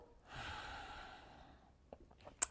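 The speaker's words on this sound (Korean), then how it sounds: "뒤쪽으로 호흡을 채워 넣어 보세요. 그리고 옆쪽으로도. 그리고 내쉬고" A slow, soft exhale during a foam roller Pilates breathing exercise, a breathy hiss that swells and fades over about a second and a half, followed by a few faint taps and a sharp click near the end.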